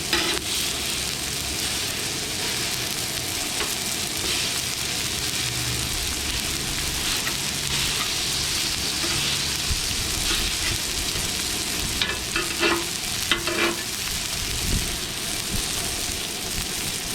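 Food sizzles loudly and continuously on a Lodge cast iron griddle over a Coleman 425 camping stove as it is smashed down, with a few scraping clicks near the end.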